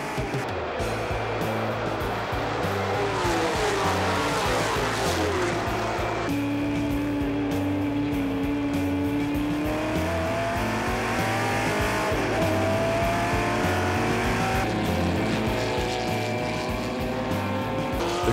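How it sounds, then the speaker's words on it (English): 1960s Group 4 race cars, Ferraris and Ford GT40s built between 1962 and 1965, race at the Le Mans Classic: loud, continuous engine roars rise and fall through the gears as cars pass close by, with whining pitch sweeps. "Now to Group 4, featuring cars built between 1962 and 1965."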